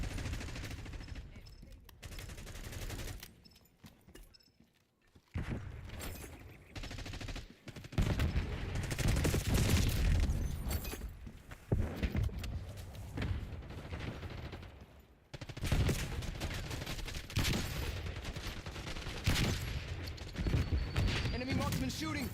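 Busy gunfire in the Black Ops 6 match on the Nuketown map, with an enemy marksman firing. Dense volleys and bursts come and go over about twenty seconds, pausing briefly near the start and again mid-way, under a constant wash of game noise.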